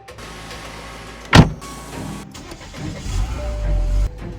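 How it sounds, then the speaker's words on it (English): A BMW car runs as its transmission engages: a short loud clunk, then a low, uneven engine rumble and mechanical whirring that swells toward the end before cutting off, with no talk. "And the transmission finally engaged. The car is shifting and the reverse gear is working too."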